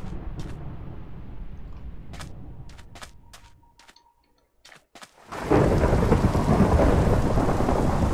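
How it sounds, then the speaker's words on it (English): A Minecraft thunderstorm: steady rain at first, thinning briefly, then a loud roaring burst of thunder and heavy downpour that continues to the end, with no talking. "That's a thunderstorm."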